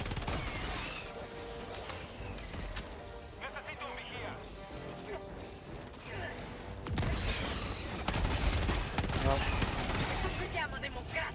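Automated sentry turret gunfire in the co-op shooter game Helldivers 2, dense continuous shooting and explosions over a chaotic battle while players talk over it.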